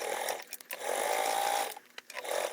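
A sewing machine runs in short bursts stitching a bag seam with a quarter-inch allowance, a close whirring motor that stops and restarts briefly.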